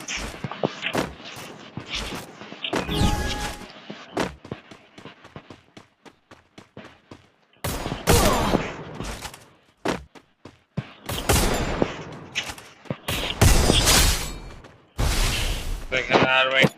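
Gunfire in the mobile battle game Free Fire, with loud bursts of rapid shots and single cracks coming in clusters separated by short quiet gaps, some bursts sharp and close, alongside game effects.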